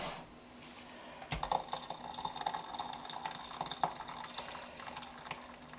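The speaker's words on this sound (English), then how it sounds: "Now I'm going to add some more hot water to that mix." Hot water poured into a dehydrated vegetable stew blend, with soft liquid pouring and dripping sounds and light clinking, steady and close, no talking.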